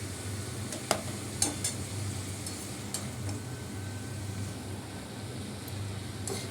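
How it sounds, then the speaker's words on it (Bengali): Bathua greens fry and get stirred in a pan, giving a soft steady sizzle with a few light clinks of the utensil against the pan. "নরমও শাকগুলো, বেতুয়া শাকগুলো দিয়ে দিলাম"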